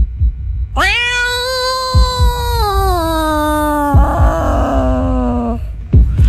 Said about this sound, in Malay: Sambil tu kucing yang dekat atas meja mengiau.